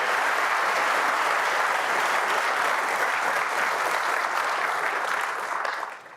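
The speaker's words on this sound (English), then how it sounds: "Please give a round of applause" Dense, steady applause from a large conference audience at a live corporate event, loud and continuous before tapering off at the very end, with no voices over it.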